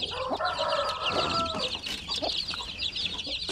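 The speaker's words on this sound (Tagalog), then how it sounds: "pinapakain ko po yung ating mga sisiw 3 times a day" Native chicks about ten to thirteen days old chirp and cluck at feeding time, a steady, busy chorus of high peeps close by with no talk.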